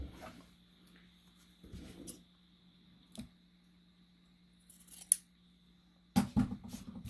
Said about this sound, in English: I'm going to cut close but not cut my stitches.